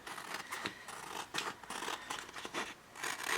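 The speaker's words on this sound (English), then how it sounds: "So I'm going to go ahead and cut it off." Scissors snipping through excess print material for a Cricut shadow box artwork, a quick run of close, crisp cuts and rustles with no talking.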